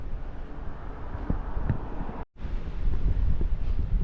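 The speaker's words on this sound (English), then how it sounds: "It's super windy" Strong wind buffets the microphone in a steady, loud rumbling roar, with a brief cutout midway before the gusting resumes.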